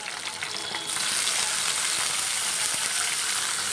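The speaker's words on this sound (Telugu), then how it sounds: "కొంచెం వేగిన తర్వాత దొసకాయ ముక్కలు టమాటాలు కూడా వేసేద్దాం ఫ్రెండ్స్" Cucumber pieces and tomatoes frying in a pan for a peanut and cucumber chutney, giving a steady, loud, close hiss that swells after the first second and holds evenly.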